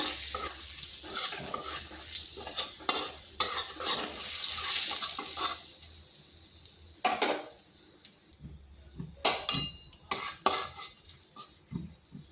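Ground spices with chili powder and turmeric, cumin powder too, sizzling in a pan and stirred with a utensil, soft frying hiss rising and falling under repeated scraping and clinking strokes, no talking.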